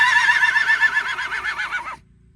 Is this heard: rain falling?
no